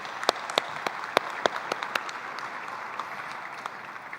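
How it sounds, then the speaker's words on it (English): Audience applause at a Lucas Oil Late Model Dirt Series awards banquet, a steady wash of many hands clapping with a few sharp, close claps standing out, moderately loud and with no talking. "give her a round of applause."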